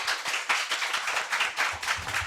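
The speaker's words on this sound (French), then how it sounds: "Allez-y, on applaudit." Audience clapping at a school quiz contest between two secondary schools, a steady patter of many hands at moderate distance, continuing for a couple of seconds with no talk.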